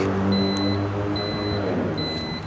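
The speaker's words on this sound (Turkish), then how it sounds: "Alarmı kapatıyorum şimdi." Repeated high-pitched electronic beeps sound in short bursts from a home alarm panel, spaced about half a second apart over a steady background hum.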